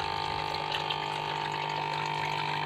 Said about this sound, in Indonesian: yang aerator yang pompa, nah itu yang menyedot terus mengeluarkan seperti ini